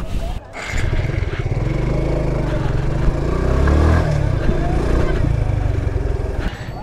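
Close motorcycle engine idling and revving with a loud, throbbing low rumble that rises and falls, with people talking over it.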